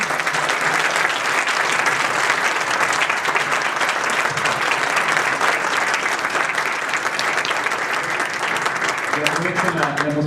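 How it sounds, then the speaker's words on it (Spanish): Sustained audience applause for speakers after a panel dialogue on structural reforms for Mexico's development, a dense, loud wash of many hands clapping steadily for about ten seconds, with voices faintly mixed in toward the end. "yo creo que se merecen un fuerte aplauso"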